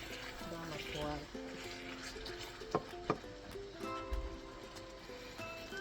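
Ground meat cooking in a frying pan as its released water builds up, a steady soft sizzle and bubbling with a few sharp clicks and scrapes.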